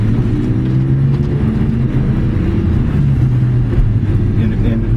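Steady low engine drone inside a BMW M3 running in automatic mode, the note holding and lugging slightly between gear changes, loud and continuous throughout.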